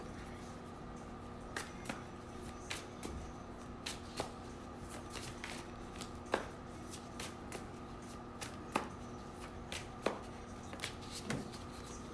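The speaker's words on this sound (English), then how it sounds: "I'm about to go ahead and pull these cards real quick." A deck of cards is shuffled by hand before a reading. Repeated soft riffles and sharp card snaps come every second or so, close and quiet over a faint background hum.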